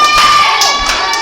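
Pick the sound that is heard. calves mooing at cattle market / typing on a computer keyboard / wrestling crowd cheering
wrestling crowd cheering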